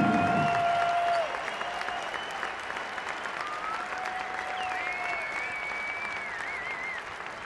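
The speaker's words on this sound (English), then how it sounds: "let's have a big round of applause to Arizona letter winner and Hall of Famer" Sustained crowd applause fills a university basketball arena at halftime as a Hall of Famer is honored, steady and dense from start to finish, with faint tonal whistles or cheers riding above it.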